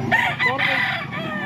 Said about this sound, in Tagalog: Magandang manok.